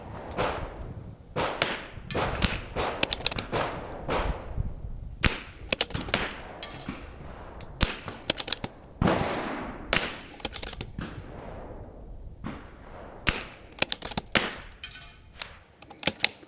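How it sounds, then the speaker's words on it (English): A Bergara B14R bolt-action rifle with a 24-inch barrel fires at an outdoor range, with sharp, loud cracks repeated at irregular intervals, each followed by a short fading echo, alongside other shooters' reports. "This is how this rifle shoots."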